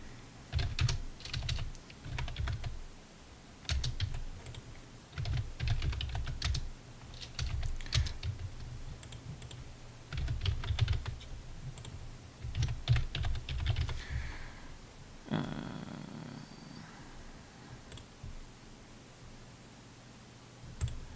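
A computer keyboard is typed on in bursts of quick clicking keystrokes, near and clear, separated by short pauses, with a brief rustling shuffle near the end and no speech.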